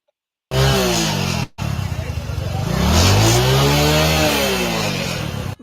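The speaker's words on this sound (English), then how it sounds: "This is the sound of one of the 15 motorbikes" A motorbike engine revs loudly nearby, rising and falling in pitch through a couple of throttle blips before settling into a strained high rev.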